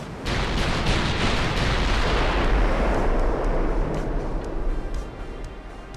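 Naval guns firing in the video game Ultimate Admiral: Dreadnoughts, a loud sustained rumble of heavy cannon blasts and booming impacts that thunder on throughout and ease slightly near the end.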